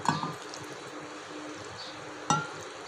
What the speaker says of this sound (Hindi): मैंने इमली को अच्छी तरह पका के चीनी, काली मिर्च और नमक से इसका पेस्ट बना लिया था, जो चने के ऊपर यूँ डाली जाएगी